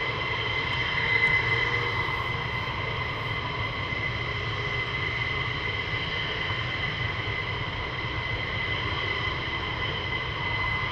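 Fighter jet engines running at RAF Lakenheath on a cold, crisp morning, a steady loud roar with a broad rumbling hum and a high whine, continuous and close throughout with no talking.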